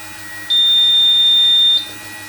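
A single steady electronic beep from a UPS alarm signaling a power break, a high pure tone held for just over a second, stands alone against a faint low hum.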